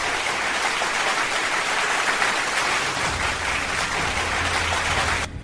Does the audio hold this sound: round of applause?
yes